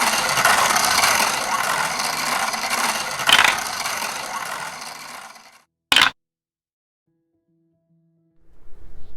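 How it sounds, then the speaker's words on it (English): A prize wheel spins with a rapid run of ratcheting clicks that gradually slow and fade out, followed by one final sharp click as it stops, then near silence. "Let's spin the wheel and see what happens."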